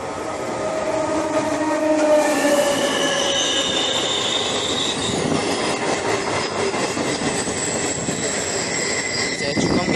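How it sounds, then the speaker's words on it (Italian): A train pulls into an Italian station on the Rimini–Cattolica line with long, high-pitched wheel squeals sliding over a constant rumbling roar, loud and close, lasting throughout. "Adesso è arrivato il treno che ci porterà a Cattolica."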